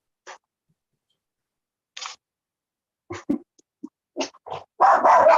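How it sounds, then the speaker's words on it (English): A dog barks in several short, separate bursts across a quiet stretch, with the later barks coming closer together and louder. "They got my dog starting to bark."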